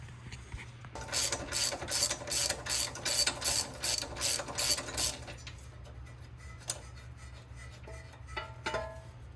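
A ratchet wrench loosens a 24 mm nut on the suspension of a 2002 Mustang during a coil-over install, giving loud bursts of rapid clicking, then quieter scattered clicks and handling noises.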